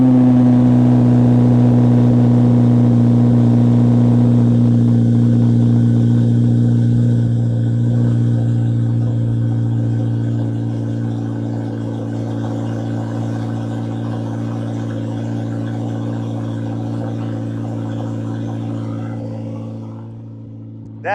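A stock turbocharged Chevrolet Corvette C8 ZR1 engine remote-starts and settles into a deep, rumbling idle, steady and close, gradually quieting toward the end.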